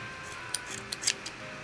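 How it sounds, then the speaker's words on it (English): Scissors snipping through faux locs hair extensions during takedown: three or four short, crisp, close cuts in quick succession against a quiet background. "So now you can easily cut the faux lock."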